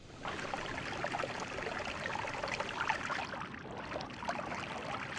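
Water sprays steadily in the game Noita, a continuous hissing, splashing stream that stays fairly loud and constant with no speech over it.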